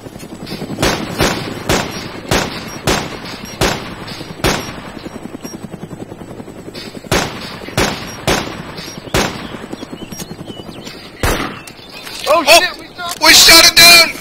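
Gunfire aimed at a helicopter in the survival game DayZ: a rapid series of loud, sharp shots in regular bursts, a short pause, then more shots ending in a dense burst of noise, with voices underneath.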